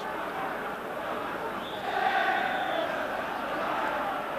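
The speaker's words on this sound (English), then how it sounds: "the match is underway here at Easter Road in front of a big noisy crowd" A big, noisy football crowd at Easter Road stadium during a Hibs v Rangers match, a steady distant roar of voices that swells slightly midway, with no clear speech.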